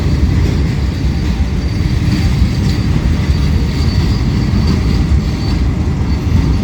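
A train rolls past a railway crossing, a loud, steady rumble of wheels and cars that holds evenly throughout with no talking.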